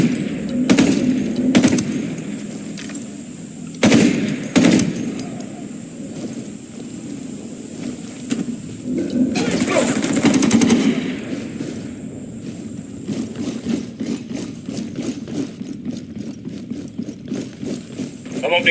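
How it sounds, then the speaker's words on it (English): Bursts of automatic machine gun fire in the Ghost Recon video game, sharp rapid volleys repeating in short clusters amid engine rumble and game sounds, with voices talking between shots. "I'm opening fire on these shitheads."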